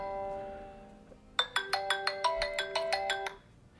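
A phone ringtone plays a quick repeating melodic pattern of bright tones, loud and close, after a moment of quiet background.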